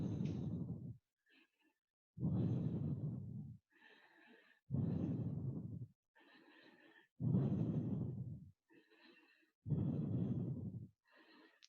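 Deep, audible breaths during an Ashtanga yoga pose, five long exhales spaced about two seconds apart with softer inhales between, close and clear with no talking.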